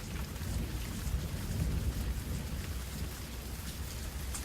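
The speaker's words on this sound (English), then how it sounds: "It begins to rain." Rain falls in a steady, soft hiss with a low rumbling undertone, quiet and continuous from start to finish, with no voices.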